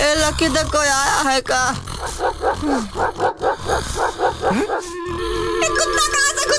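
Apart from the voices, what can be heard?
dog barking outside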